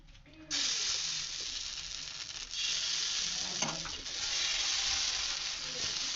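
Cabbage pitha batter hits mustard oil on a hot tawa and breaks into a loud, steady sizzle after a brief quiet start, with a faint scrape partway through.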